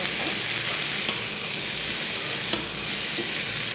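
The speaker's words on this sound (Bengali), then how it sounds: "পরিমাণ মতো হলুদ দিয়ে দিব, পরিমাণ মতো লবণ দিয়ে দিব, একটু নাড়া দিব" Potatoes with turmeric and salt, cooked for an aloo-papaya dum, sizzle in a pan while being stirred; a close, even frying hiss carries on throughout, broken by a few sharp spatula clicks.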